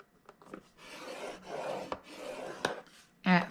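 A 9 by 8 3/4 inch sheet of cardstock is scored with a tool: repeated close scraping strokes with small taps, and a brief voice near the end.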